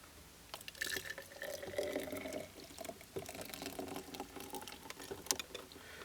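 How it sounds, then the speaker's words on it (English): A shaken, frothy cocktail poured from a shaker into a glass with the ice held back; close, trickling liquid with small splashes and faint clinks, soft and uneven over a few seconds. "Retaining the ice in the shaker, but pouring the contents into the glass, like that."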